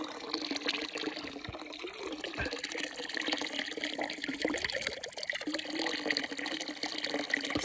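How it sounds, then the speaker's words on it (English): Water flows out of the ground on a hiking trail, a continuous close rushing and gurgling splash that stays steady throughout with no talking. "water coming out of the ground"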